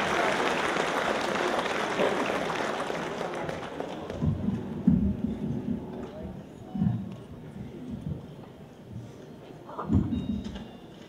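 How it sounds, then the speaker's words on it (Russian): Applause for a folk ensemble at an accordion folk-music concert starts loud and dense, then fades after a few seconds into scattered claps, shuffling and muffled stage sounds. "Встречаем, друзья, бурными аплодисментами."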